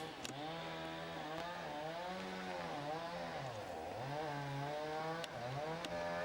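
A chainsaw runs nearby, its engine whining and revving up and down in wavering pitch, with a few sharp knocks, steady and moderately loud throughout.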